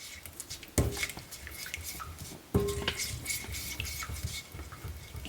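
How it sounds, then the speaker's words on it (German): A spoon or utensil stirs a vegan rice salad with vegetables in a bowl, giving soft wet squishing and scraping with two sharper knocks against the bowl, close and fairly quiet. "jetzt ein bisschen umrühren"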